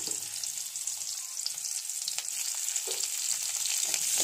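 Onions fry in a pan for a home-cooked vegetarian elephant-foot yam curry, giving a steady, close bright sizzle with occasional soft stirring knocks and no talk.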